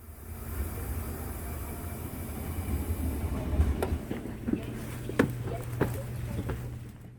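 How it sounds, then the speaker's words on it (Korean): A passenger train pulls into Jeongdongjin station on Korea's east coast, a steady low rumble of rolling wagons with clicks and clanks of wheels over rail joints, fairly close and building slightly as it arrives, with no talking. "이제 오늘 탈 열차가 들어오네요."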